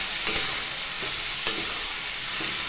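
Shredded cabbage fries with a steady hiss in a pan while a utensil scrapes through it a couple of times, the sizzle continuous and the stirring clicks brief and close.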